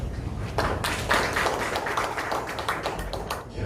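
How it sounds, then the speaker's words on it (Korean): Scattered audience clapping at an academic seminar in Korea, a short burst of hand claps with a hollow, roomy quality, fairly close and without voices. "박수 부탁드립니다."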